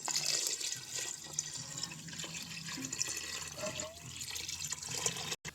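Water is poured into rice mixed with masala for a home-made Dindigul-style mutton biryani, a steady soft splashing and trickling that runs for several seconds.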